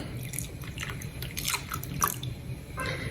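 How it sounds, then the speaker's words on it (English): Half a cup of white vinegar poured into hot milk in a pot and stirred for Lebanese ashta clotted cream: soft, close liquid drips with light scattered spoon taps, no voices. "I'm gonna take my half a cup of white vinegar and I'm gonna just mix that in"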